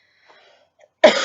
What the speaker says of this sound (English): Sorry, I have like a little cough or something.